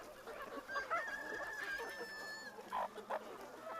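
Farm chickens fed on live insects cluck and squawk in short bursts, fairly faint, over a steady low background hum.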